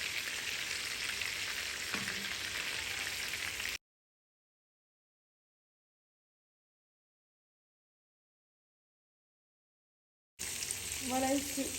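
Minced-meat meatballs browning in a pan sizzle steadily up close, a constant frying hiss that cuts out to silence midway and then returns, with a brief voice near the end.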